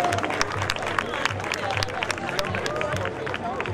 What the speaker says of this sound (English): give the Guyana Cultural Association a round of applause